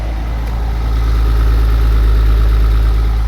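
A Porsche Boxster 986 engine runs after a first startup following intake manifold cleaning, settling into a deep, steady idle rumble that holds loud and even throughout, with no talk over it.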